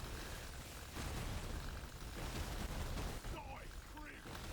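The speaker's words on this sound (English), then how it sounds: "See, look, another explosion." Explosions in the video game Deep Rock Galactic Survivor rumble as a dense, continuous wash of blasts and bursts, with brief chirping effect tones near the end, loud throughout.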